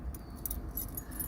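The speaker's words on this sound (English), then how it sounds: "These are my first car keys" A bunch of car keys jangles softly and continuously for a moment, close by in a quiet room.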